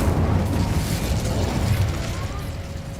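A casting of the Incendio fire spell in a video game bursts into a loud, rumbling whoosh with a mechanical crackle that gradually tapers off over a few seconds, with no speech.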